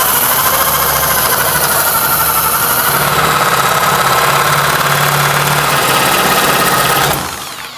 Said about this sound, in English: Go slow and steady and make sure that the blade sits in the middle as you cut.